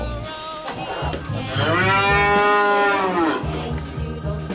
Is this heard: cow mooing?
yes